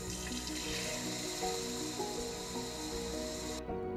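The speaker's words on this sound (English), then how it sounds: "So dump the water and fill the cup again." Running water pours from a faucet into a cup to flush a fountain pen, a steady close splashing stream that cuts off abruptly near the end.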